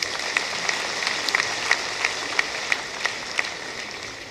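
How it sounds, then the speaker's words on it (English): Audience applause at the opening ceremony of the 48th Annual Accountants' Conference, honoring the President and the Minister: a steady wash of many hands clapping, fairly distant and sustained, with a few sharper claps popping out at regular intervals. "the round of applause should go to two people"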